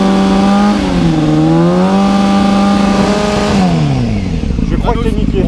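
Motorcycle fitted with an Admoto exhaust with the baffle removed, revved hard during a sound level test, its loud, close engine note rising and falling through several swells before dropping back, with people talking nearby.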